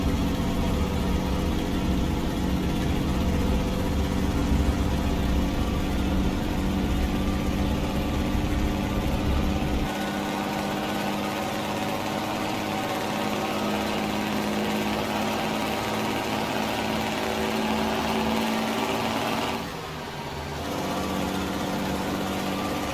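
A Kenworth 521 needlenose truck engine with a Spicer 4x4 twin stick transmission drones steadily in American Truck Simulator under a heavy load, a continuous loud rumble that drops in low end partway through and briefly dips near the end.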